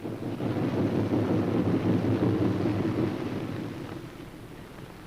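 A four-engine Boeing B-17F Flying Fortress comes in to land with its left inboard engine dead, a steady low, rumbling drone heard from a distance that swells, holds, then gradually fades away.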